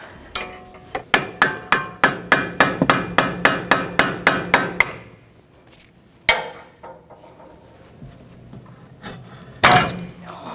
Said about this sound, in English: get a flathead screwdriver or pry bar in here